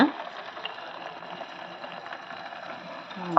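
A drop of buttermilk hits hot homemade ghee made from Nandini butter, giving a steady soft sizzling hiss with faint crackles throughout.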